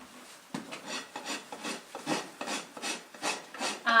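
A farrier's rasp files a horse's hoof in steady, close strokes, about eight rhythmic rasping passes, each a gritty scraping sweep, loud and alone with no talk.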